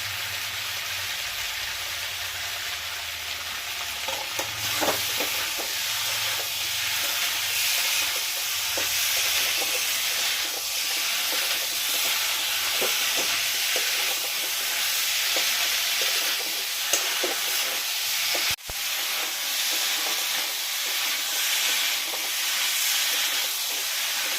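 Tomatoes sizzle and fry in a pan for potato curry, a loud steady hiss broken by scraping stirs, with one sharp clatter near the end.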